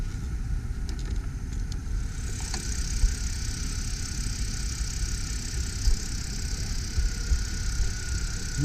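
A 2006 BMW 330i E90 Sport Package with a six-speed manual idles smoothly, giving a quiet, even engine hum throughout with no voices.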